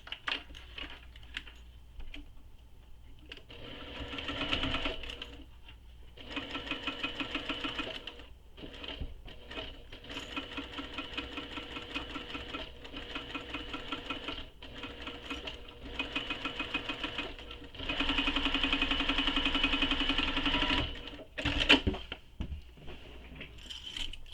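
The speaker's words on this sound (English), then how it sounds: "now I'm going to sew this with the seam allowance that's given in the pattern" A sewing machine stitches around the curved edge of a tote bag in repeated stop-start runs of rapid mechanical ticking, close up, with one longer steady stretch near the end.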